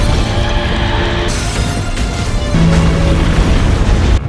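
A bomb detonating in an action film scene, loud, heavy booming blasts with crashing, rumbling debris that fills the whole stretch, cutting sharply between bursts and dropping away abruptly at the close.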